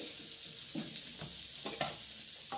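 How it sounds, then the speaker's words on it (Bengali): Macaroni pasta stirred in a pan, faint soft scrapes and light taps over a quiet, steady sizzle, close but low in level. "আমি পাস্তাটাকে একটু নাড়াচাড়া করে নেব"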